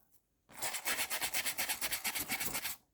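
Weathering powder is rubbed onto a model car surface in quick, even back-and-forth strokes, a close, soft rasping rhythm of about a dozen passes with no talk.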